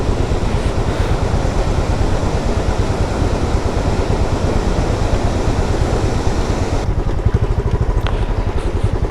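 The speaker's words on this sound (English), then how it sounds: "More and more water crossing." A motorcycle ploughing off-road through a mountain stream crossing near Chandra Tal and Batal, its engine drone buried in a loud, continuous rush and splash of water for several seconds, then easing slightly toward the end.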